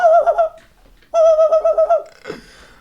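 A person imitating a pigeon-like bird mating call: two loud, close bursts of rhythmic throaty cooing separated by a short pause, followed by a brief breathy sound.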